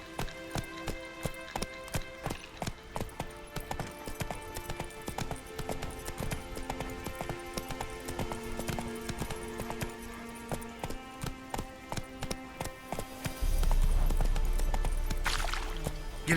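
Horse galloping in The Witcher 3, hooves pounding in a steady rapid rhythm under game music, then a burst of louder wind or rushing noise near the end.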